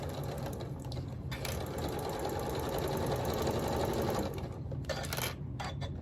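A sewing machine stitches quilt fabric for a Jacob's Ladder quilt block. It runs steadily and moderately loud for several seconds with a rapid mechanical whir, then slows and stops near the end.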